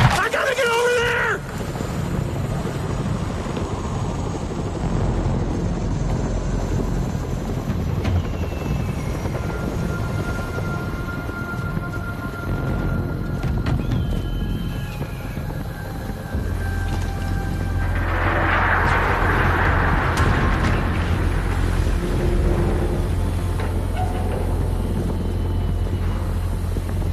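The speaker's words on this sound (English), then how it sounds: "That chopper's got my name on it." A helicopter in the video game Arizona Sunshine 2 thrums steadily for the whole stretch, a constant rotor drone that swells louder near the end, with game effects and a voice over it.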